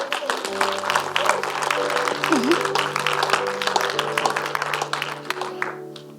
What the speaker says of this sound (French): Est-ce qu'on peut applaudir mon fils extraordinaire?